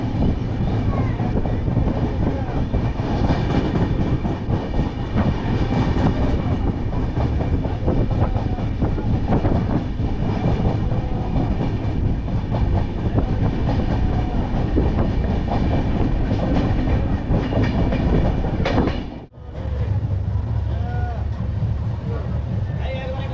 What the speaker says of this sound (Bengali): আর আমাদের এই ট্রেন ননস্টপ রান করবে 33 কিলোমিটার।